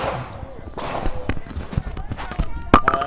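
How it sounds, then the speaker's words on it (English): Gunshots ring out at the George Floyd memorial site during a live television broadcast, several sharp distant cracks scattered irregularly among crowd noise and anxious voices. "These seem to be gunshots."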